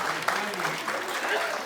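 An audience claps loudly at a gathering, a dense continuous patter of hands lasting the whole moment, with faint voices mixed in.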